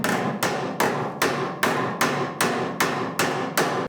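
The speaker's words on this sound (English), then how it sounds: "after peening the aluminum, you have a nice indentation" A hammer strikes thin aluminum toolbox metal while peening an indentation, landing ten sharp, evenly spaced metallic blows about every 0.4 seconds, each ringing briefly before the next, close and loud with no talk.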